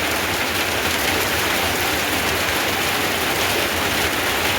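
Heavy rain pours down in a steady, dense roar that fills the whole stretch, loud and continuous with no pauses and no voices.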